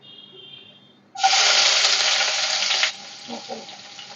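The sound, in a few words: food frying in oil during tempering (bagar)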